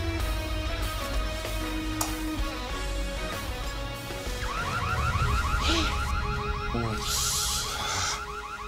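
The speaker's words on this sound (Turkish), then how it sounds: "alarmlar çalıştı" A car alarm wails continuously, its pitch sweeping up and down in a repeating electronic siren pattern, loud and close with no voices.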